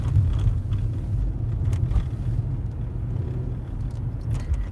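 A car rolling along 111th Street in Roseland, heard from inside as a steady low road rumble and engine drone, continuous and fairly loud with faint passing traffic noise.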